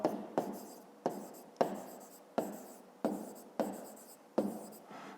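Pen writing on paper while working a math exercise, a series of short scratchy strokes in a steady rhythm, close and quiet, with no voices.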